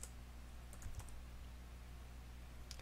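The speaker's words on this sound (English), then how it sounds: "So go to command prompt and type ipconfig." Typing on a computer keyboard at a command prompt: a few faint, soft key clicks in a quick cluster over steady background hum, recorded quietly.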